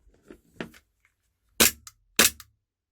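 Two loud, sharp shots from a VFC airsoft gun, each a crisp crack followed by a short mechanical clack of the recoil, preceded by softer handling clicks and otherwise quiet.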